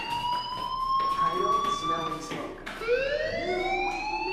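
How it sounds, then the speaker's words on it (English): A blaring, steadily rising fire alarm tone from the Life is Strange video game sounds throughout, loud and continuous, with a brief dip before it climbs again, partly under a speaking voice. "do you hear that fire alarm?"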